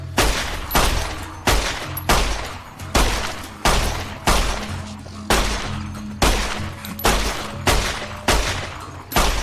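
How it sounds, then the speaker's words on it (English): Repeated loud gunshots in Fallout: New Vegas, about a dozen evenly spaced blasts roughly every 0.7 seconds, each with a sharp attack and short decaying tail, firing alone without talk. "I'm shooting them slowly."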